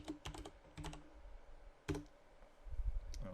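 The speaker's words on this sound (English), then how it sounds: "I'm going to type grand total" Keys clack in quick, uneven bursts on a computer keyboard while a label is typed into a spreadsheet cell, with short pauses between the clusters of close, crisp clicks.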